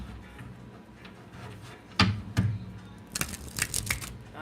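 Tarot cards are shuffled by hand, giving a few sharp riffling snaps near the middle and a denser flurry of card slaps toward the end over a soft background.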